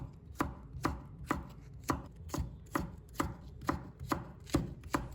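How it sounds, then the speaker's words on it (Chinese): A knife cuts a green pepper into thin strips on a cutting board, about eleven crisp, evenly spaced chops in a steady rhythm, near and fairly quiet, with no voices. "再改刀切成细条"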